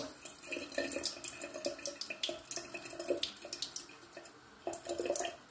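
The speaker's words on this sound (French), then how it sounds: "Donc de l'eau froide, voilà. Voilà, nous on lave comme ça." Cold tap water runs over barley couscous being washed by hand, a close, steady splashing stream with small drips and swishes.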